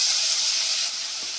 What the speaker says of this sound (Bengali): এখানে বেগুন তো কিছু ভাজা হয়ে গেল